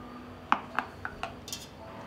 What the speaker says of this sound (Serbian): na dno ću staviti krpu i unutra ću poređati tegle.